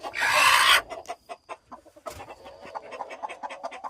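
A broody hen, just moved to a new coop, makes soft, repeated clucks close by after a brief burst of scratchy rustling at the start.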